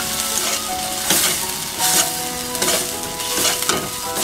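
Chopped onion and green chili frying in a little oil in a pan for Bengali begun fry, with a steady sizzle broken by repeated scraping stirs of a spatula against the pan at an uneven rhythm.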